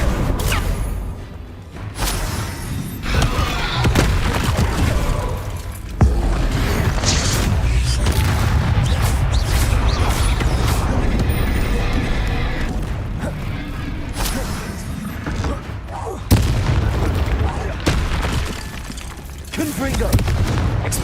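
Repeated fiery blasting-spell explosions from Hogwarts Legacy, loud booms in quick succession over continuous game combat noise, with spoken spell incantations throughout.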